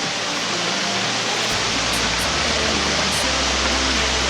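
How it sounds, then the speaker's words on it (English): Water rushes over Kildale waterfall on the River Leven, heard from the top of the falls as a loud, unbroken hiss and roar. "So we're here at the top of the waterfall now."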